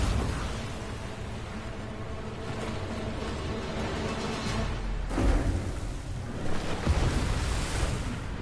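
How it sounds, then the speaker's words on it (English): A raging storm in Fortnite's Season 2 Device event, with a continuous roaring rumble of wind and surf-like noise that swells louder in low booming surges near the end. "the storm is moving outside"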